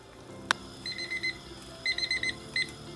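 A sharp tap, then a kitchen timer beeps in short rapid bursts, several quick electronic chirps in clusters, fairly close.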